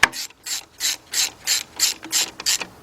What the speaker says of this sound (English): I got my 13mm deep, about a 6-inch 3/8 drive extension, and my 3/8 drive ratchet